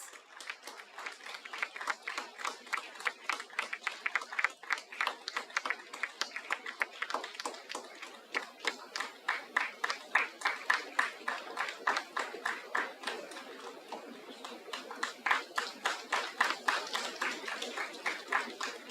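Sustained audience applause at an HR conclave, a dense run of many hands clapping steadily throughout, moderately distant and fairly quiet in the hall.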